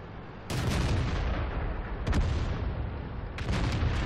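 Tank cannon shots in World of Tanks, three heavy booms with long rolling decays spaced about a second and a half apart, loud and close over background game noise.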